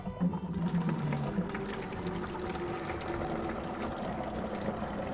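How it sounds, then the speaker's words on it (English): Water gushing from a pipe once the power is switched back on, a steady rushing pour that stays loud and even for several seconds with no talk over it. "that's not even a full pipe's worth of water"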